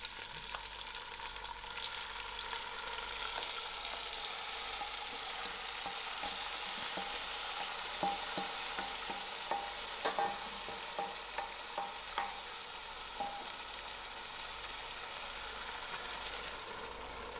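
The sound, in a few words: crushed chilies frying in hot oil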